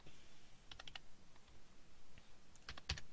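Typing on a computer keyboard: sparse, quiet clicks in a few short bursts of keystrokes, close and faint against a hushed room, no voices.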